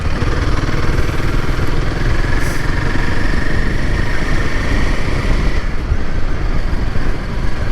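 An adventure motorcycle rides along a loose, pebbly country lane, its engine droning with constant rumble and wind noise, close and loud throughout.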